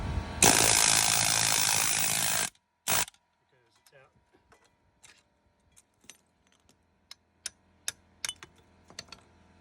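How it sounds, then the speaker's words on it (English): A loud pneumatic air hammer rattles continuously for about two seconds, pushing a stuck leaf spring bushing out of a Jeep YJ Wrangler, then stops; afterward come scattered metallic clinks and taps at close range. "now when I hit it with the air hammer, it's pushing it right out."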